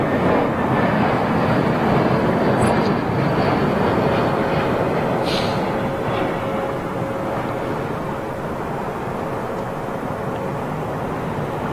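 A Cathay Pacific Boeing 777-300 arriving at London Heathrow roars as a loud, steady broadband engine rumble that holds throughout, easing slightly toward the end, with no talk over it.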